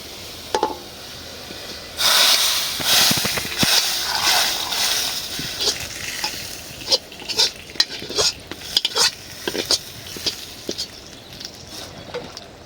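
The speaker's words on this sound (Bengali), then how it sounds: "একটু কড়া ভাজা করি ডালেরটা, না হলে তো পরে আবার সাদা সাদা হয়ে যায়।" Dal frying in a pan while a utensil stirs and scrapes it, bursts of sizzling and spatter alongside sharp clinks of metal against the pan, close up and irregular with no talking.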